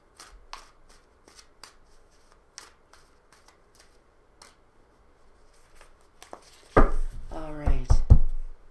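Tarot cards being shuffled by hand, a run of soft scattered taps and riffles followed by a louder, denser burst of card shuffling up close.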